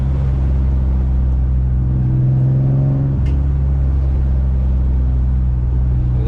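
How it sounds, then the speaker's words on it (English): A turbocharged Infiniti G35 drones loudly and steadily while driving, its engine note shifting pitch partway through as the turbo spools, with a brief hiss above the rumble. "I love hearing the turbo noises."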